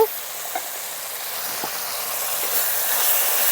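Steam hissing steadily as the lid comes off a pot of katla fish curry cooking with tomato over a low flame, a soft continuous airy hiss with a few faint clinks, fairly quiet and alone.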